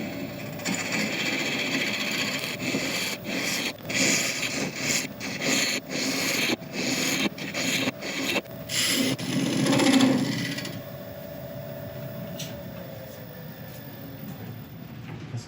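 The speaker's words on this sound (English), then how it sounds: "let's just quickly cut this recess and then take it from there" Woodturning tool cuts a recess into a spinning wooden blank on a lathe, a rough scraping rasp broken by rhythmic catches and pauses for about ten seconds before the lathe hums on quietly, no talking.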